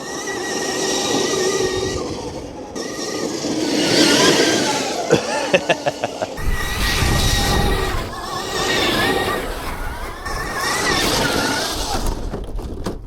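A very large RC trail truck's electric motor running in high gear over rough terrain, a steady whining drive with rattling bumps and clatter, a fast ticking burst midway, and a voice talking over it.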